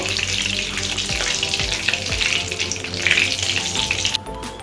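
Half a teaspoon of sugar dropped into hot oil for a chicken Nilgiri korma fries with a loud, dense, continuous sizzle that stays close and steady, then drops off sharply near the end.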